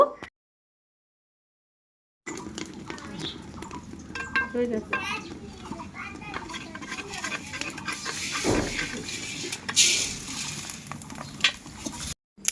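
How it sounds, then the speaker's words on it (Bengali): Wheat grains roasting in hot sand in a village kitchen, stirred with scraping, rattling strokes and a gritty hiss; a sudden start after a quiet opening, with voices talking faintly underneath. "এই তো এগুলো গমগুলো বালুতে ভাজা হচ্ছে"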